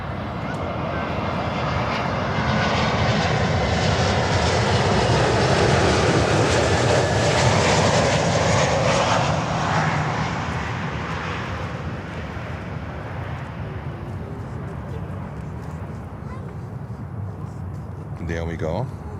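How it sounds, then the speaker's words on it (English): Volaris Airbus A321neo jet engines roaring loudly at close range as the airliner passes, a broad sustained rush that swells and then slowly fades, with a voice talking over it. "Let's catch real quick Volaris 321 Neo."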